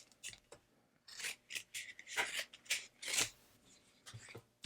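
Scissors snipping through a piece of leather while making earrings, a series of short crisp cuts and rustling strokes in an uneven rhythm, close and fairly quiet with no speech.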